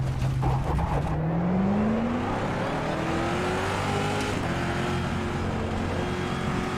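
A Formula E race car engine in the rFactor 2 racing video game roars and climbs in pitch through the gears, with a passing whoosh and a faint tire squeal, loud and continuous with no talk.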